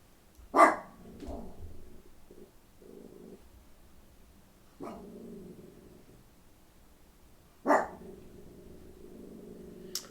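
A dog barks in a few sharp bursts, each followed by low growling rumbles, heard three times at moderate volume in an otherwise quiet room.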